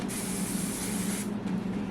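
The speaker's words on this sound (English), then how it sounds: "I'm just going to spray it, and then that just gets rid of them." Hair spray hisses in a steady burst for about a second and a quarter onto a cut and colored head of hair, followed by a quieter tail of room sound.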